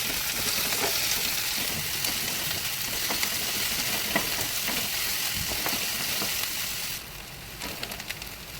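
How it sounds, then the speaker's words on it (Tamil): Onions sauté in hot oil in a pan for Tamil-style fish curry, giving a loud, steady sizzle punctuated by occasional stirring scrapes, dropping quieter toward the end. "இப்போ வெங்காயம் போட்டு நல்லா வதக்கிக்கலாம்."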